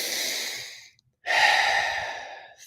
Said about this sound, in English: Keep breathing into our last 5 breaths.